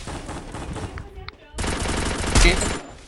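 Gunfire in a mobile battle-royale game played on an iPhone XR, with rapid automatic bursts, a brief lull, then a louder sustained volley, close and punchy.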